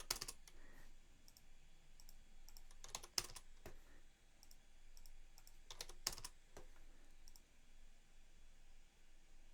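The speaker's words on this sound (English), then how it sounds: "I guess I could just type in WR." Commands are typed on a computer keyboard in short bursts of quick clicks, with quiet pauses between bursts over a faint hiss, no voice.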